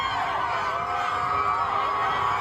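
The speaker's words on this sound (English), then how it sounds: "what you're looking at is a crowd of people with Mexican flags protesting ICE enforcement efforts in Dallas, Texas" Crowd of protesters waving Mexican flags at an ICE enforcement protest in Dallas, Texas, a steady diffuse roar of many voices with no single voice standing out.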